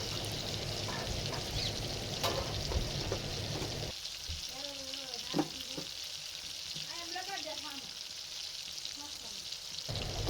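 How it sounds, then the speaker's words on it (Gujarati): Tomatoes fry with turmeric and coriander-cumin powder while being stirred, giving a steady sizzle with intermittent scraping strokes of the spoon, close by and fairly loud throughout. "તો ચાલો ધાણા જીરું હળદરને સરખું મિક્સ કરી નાખીએ। તો જો આપણે હલાવવા માંડ્યા છીએ।"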